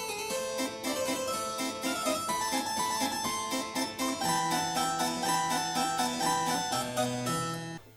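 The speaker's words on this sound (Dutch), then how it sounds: "En een klavecimbal klinkt zo." A harpsichord plays a busy passage of rapid plucked notes over a moving bass line, bright and continuous for several seconds before stopping.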